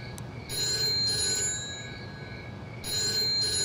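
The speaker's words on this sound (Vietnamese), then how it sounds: "Điện thoại kìa." A telephone rings in a home in two bursts of bright, bell-like trilling with a pause between them. It is fairly close, over a low background hum, and no one speaks.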